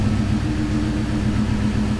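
A car engine idles steadily after a cooling-system repair, a close, low, even hum with a faint regular pulse and no change in speed.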